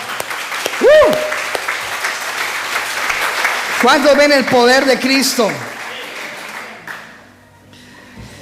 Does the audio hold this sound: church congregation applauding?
yes